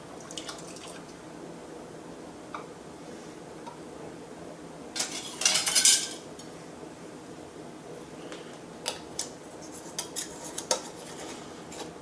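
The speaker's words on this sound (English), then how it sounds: "Using the magnetic tool, grab a lid." A magnetic tool picks a metal canning-jar lid from a pot during home canning of fire-roasted salsa, with a brief cluster of bright metallic clinks and rattles midway and a few lighter ticks afterward, against quiet kitchen background.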